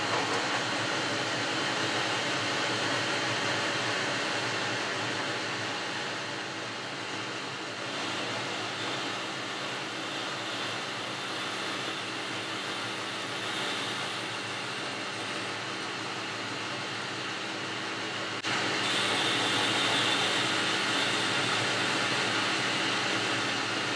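A lathe skims the outside of a rotary broach shank, giving a steady, even machining hiss and hum that runs throughout and brightens slightly near the end.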